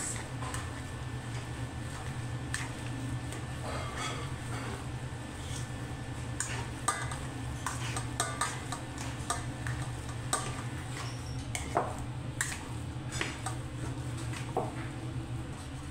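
Cooked chicken being stirred into potatoes in a bowl, a steady run of soft squishing and scraping with faint clinks of utensil against the bowl, close and fairly quiet, with no voices.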